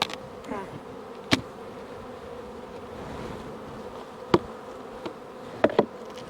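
A steady hum of bees from a large hive of around 100,000 bees fills the clip, continuous and close, broken by a few sharp clicks or knocks from handling the hive.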